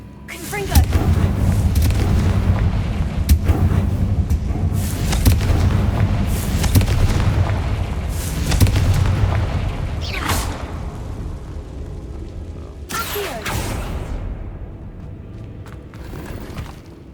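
Confringo fire spell blasts in Hogwarts Legacy, a few sharp booming bursts over a continuous rumbling game background, with a voice talking underneath.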